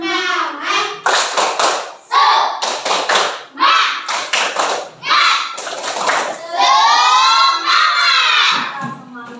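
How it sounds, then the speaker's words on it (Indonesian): A classroom of children does a rhythmic spirit clapping chant in an Indonesian school lesson, sharp hand claps in bursts alternating with loud shouted voices, ending in a long sustained group cheer. "Kalau mas-mas biar tambah semangat, kita tepuk semangat"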